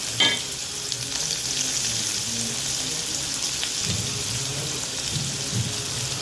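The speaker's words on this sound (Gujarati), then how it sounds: "લીમડો થોડો એ થઈ તતડે એટલે ડુંગળી એડ કરીશું" Curry leaves and onions frying in hot oil with asafoetida for dahi bhindi, a steady close crackling sizzle with scattered pops and a few stirring scrapes toward the end; no talking.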